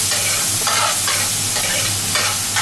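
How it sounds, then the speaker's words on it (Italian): Fresh tuna browning in a frying pan for a Sicilian pasta with kamut tagliolini, giving a steady hiss of sizzling with scraping stir sounds. It continues without a break and stays close and fairly loud. "Lasciamo rosolare anche il tonno."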